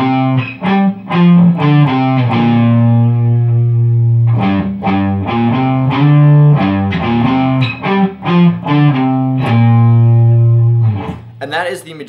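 An electric guitar plays a riff with a distorted tone, repeating a run of loud, clipped notes alone for about twelve seconds before a brief noisy burst at the end.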